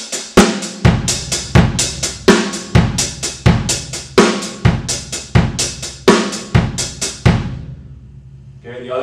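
Linear drum pattern with accents on the and of 1 and 3, the right hand moving to the snare between hi-hat strokes, fast repeating groupings with punchy hits, close and loud, then stopping into quiet.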